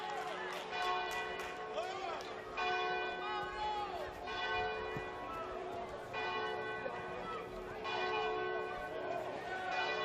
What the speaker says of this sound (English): The bell tolls for 7:30 local time.